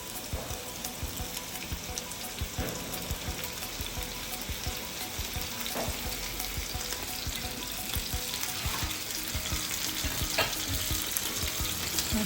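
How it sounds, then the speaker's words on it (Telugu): Mushrooms fry in two tablespoons of oil in a pan, giving a steady, dense sizzle and crackle throughout with occasional stirring clicks, fairly quiet and with no talking. "పక్కన ఒక ప్యాన్ పెట్టుకొని అందులో 2 tablespoons ఆయిల్ వేసుకొని ముందుగా శుభ్రం చేసి పెట్టుకున్న మష్రూమ్స్ని అందులో వేసి"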